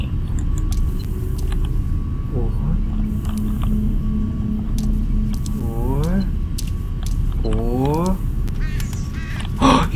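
Sudden bird calls in the dark horror game Condemned: Criminal Origins. Two or three loud, rising squawks cut through a rumbling background, with a voice speaking around them.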